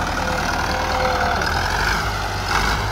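A 1954 Someca 650 Fiat tractor engine idles close by, a steady, unbroken low mechanical rumble with a broad hum that holds level for the whole stretch, with no voices.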